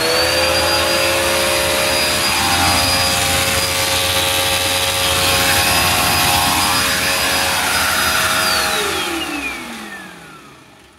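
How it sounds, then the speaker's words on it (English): A Dirt Devil Endura Lite upright vacuum cleaner runs loud and close with a steady motor whine, then spins down toward the end as the pitch drops and the sound fades out. "now we're gonna run the vacuum for a bit and let's see how it sounds"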